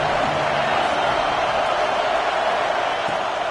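Stadium crowd at an NCAA football game: a dense, sustained roar of many voices, loud and continuous, with no distinct breaks or individual words.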